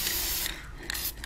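An aerosol spray paint can hisses in a couple of steady bursts, close up, with short gaps between sprays while crafting a witch cauldron.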